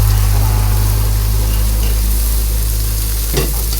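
Garlic and onion sautéing, a broadband sizzle partly masked by a loud, steady low hum, with one short clank near the end.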